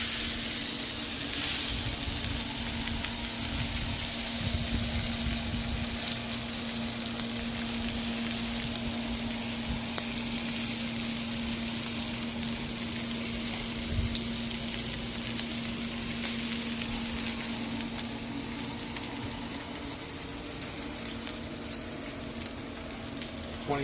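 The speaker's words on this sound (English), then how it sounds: "And we're going to sear it about 20 to 30 seconds aside." Tomahawk steak searing in avocado oil on a Camp Chef Woodwind 24 pellet smoker, a steady close sizzle and hiss of fat that holds constant throughout with occasional crackles and no talking.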